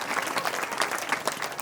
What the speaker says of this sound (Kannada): ಹುಡುಗರಿಗೊಂದು ಜೋರ್ ಚಪ್ಪಾಳೆ ಹೊಡಿರೇ